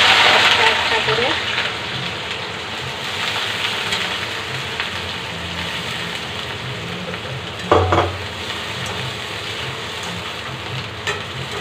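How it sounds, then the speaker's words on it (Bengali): Chopped onions fry in hot oil for beresta, a steady dense sizzle throughout with a brief louder clatter of stirring near the end. "অয়েল গরম হওয়ার পর আমি পেঁয়াজ দিয়ে বেরেস্তা তৈরি করে নেব।"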